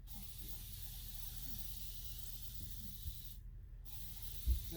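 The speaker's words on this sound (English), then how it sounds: "gotta be careful not spraying water on the painting I have on the box." Water spraying steadily from a bottle or nozzle near a painting on a box during fluid art, a soft continuous hiss that briefly cuts out partway through.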